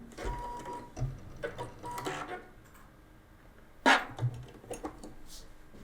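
A sewing machine backstitching a patchwork seam in short, quiet whirring bursts with pauses between them, and a sharper clack near the end.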